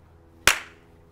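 One sharp, close hand clap rings out alone in a quiet space, with a short decaying tail.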